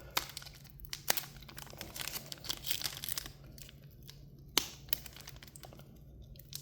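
Crinkly plastic wrapper of a trading card pack being torn and crumpled by hand, with several sharp rips and rustles close by, no talking.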